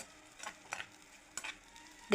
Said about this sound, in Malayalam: ഒരു മഞ്ഞ കളറാവുന്നത് വരെ നമ്മളിങ്ങനെ വറുത്തെടുക്കേണ്ട ആവശ്യമുണ്ട്